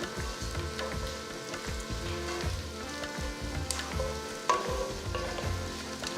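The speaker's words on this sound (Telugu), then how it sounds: "ఇప్పుడు ఉల్లిపాయల్ని మంచి ఒక గోల్డెన్ బ్రౌన్ కలర్కి వచ్చే వరకు దీన్ని వేయించాలన్నమాట" Onions frying in oil in a pan while being stirred, a steady crackling sizzle with scraping and clinking stir sounds throughout and one sharper clank near the end, close and moderately loud, no speech.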